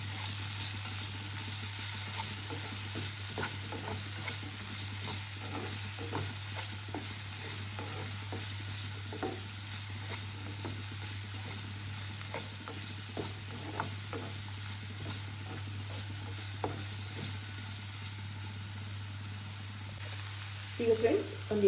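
Finely chopped tomato fries in a pan for egg Maggi, with a steady crackling sizzle throughout and soft, repeated scrapes of stirring on top.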